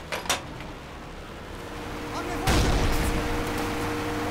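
Anti-tank rifle fire in a multiplayer war game: a couple of sharp shots early, then a loud heavy boom with a rumbling tail, over background battle noise.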